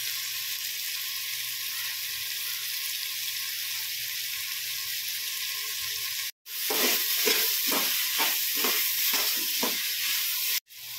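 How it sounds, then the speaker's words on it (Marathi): Spices fry in a pan for mutar pulav, a steady close sizzle that turns louder midway, with a run of rhythmic scraping stirs through the sizzling and no talking. "तर आता 2-3 मिनिटं झालेले आहेत, व्यवस्थित फ्राय झाले।"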